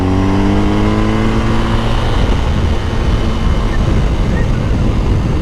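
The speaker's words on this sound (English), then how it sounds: "In the middle of the corner, I'm gonna squeeze extremely aggressively on the front brake." A motorcycle ridden hard through a corner while the rider squeezes the front brake aggressively mid-turn, its engine note stepping down steadily over loud, continuous wind and road roar.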